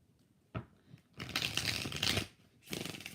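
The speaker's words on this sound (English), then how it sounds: "Two more shuffles." A soft tap, then a close, crisp riffle of tarot cards being shuffled, pausing briefly before another quick shuffle starts.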